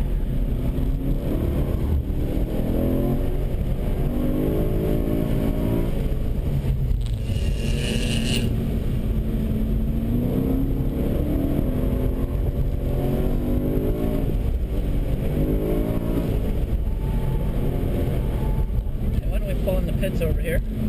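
BMW M3 engine on a race track in a high-performance driving school session, droning and rising steadily under acceleration with shifting pitch as the driver alternates power and braking, loud and continuous while someone talks over it.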